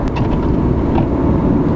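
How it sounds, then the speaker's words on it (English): A Peugeot 208 diesel engine running, a steady low drone with a faint rumble and some wind noise, constant and fairly loud throughout. "That's a nice sounding engine all the same."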